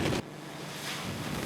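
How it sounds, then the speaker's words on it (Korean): Rough sea waves and wind roar during a night storm at sea aboard a snow crab fishing boat, a dense, loud rush of wash and gusting wind throughout, with a sharp break early on. "파도가 거세지기 시작했다."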